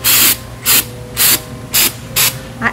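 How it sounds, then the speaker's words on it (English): Aerosol spray paint hissing onto the top of a plastic pumpkin in five short, evenly spaced bursts, close and loud, with a faint steady hum underneath and no talking. "I'm going to spray this top part first so I can turn it upside down"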